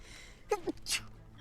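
A person sneezes once during a tabletop role-playing game session, a short sharp burst, with faint room noise around it and no talk over the sneeze.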